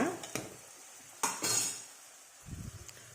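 A spoon stirs radish leaf curry in a pan, making a few sharp scrapes and clinks over a soft, quiet sizzle.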